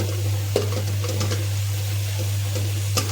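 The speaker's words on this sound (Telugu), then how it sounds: "కొంచెం కొంచెం కలుపుకుంటూ ఉండాలి" Malabar spinach chutney, its washed leaves releasing water, is stirred in a pan over a constant low hum and soft sizzle. A few sharp scrapes and clinks of the spoon punctuate the steady background, with no talking.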